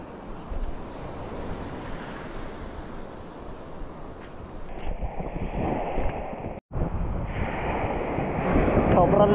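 Strong wind roars steadily across the microphone outdoors, a loud, continuous broadband rush with gusts that swell toward the end and a brief dropout midway; no one speaks.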